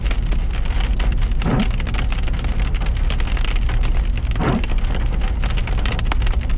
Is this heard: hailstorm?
yes